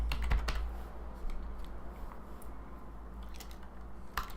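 Rapid keystrokes on a computer keyboard while code is typed, a quiet, fairly steady patter of clicks with a few sharper taps, heard alone with no talk.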